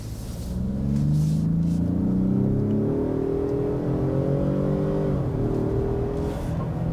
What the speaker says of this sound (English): EcoBoost V6 noise when it gets going